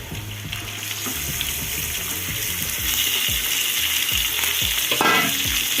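Chicken pieces added to a pan of browned onions for garlic chili chicken fry sizzle loudly and steadily, with scraping stirs and a brief splash of running water near the end.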